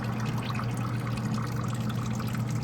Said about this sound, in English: we're gonna drain the fuel out of this guy